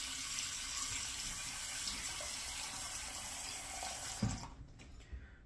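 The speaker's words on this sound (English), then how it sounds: "I'm gonna put a little bit of water in my sink here." Tap water runs steadily into a bathroom sink as a wet-shaving setup is prepared with almond shaving cream, a continuous close hiss and splash that cuts off near the end, leaving a few faint drips and clinks.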